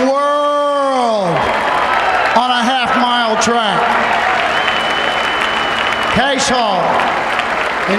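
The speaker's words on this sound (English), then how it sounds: "He's going to get a nice hand from the crowd here as John Campbell brings Cash Hall back. Standing ovation." A racetrack crowd applauds in a sustained standing ovation for a returning harness horse and driver, a dense wash of clapping and cheering under a loud announcer's voice with whooping calls.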